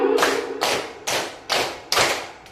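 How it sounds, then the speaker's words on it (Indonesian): A run of five or so crisp hand claps from a classroom group, close and punchy, evenly paced about every half second with short decays between them. "tepuk 5 kali"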